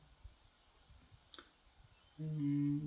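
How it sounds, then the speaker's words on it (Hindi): Computer mouse click during a website analysis tool tutorial, a single faint sharp click in a quiet room, followed by a louder sustained tone near the end. "क्लिक हो गया।"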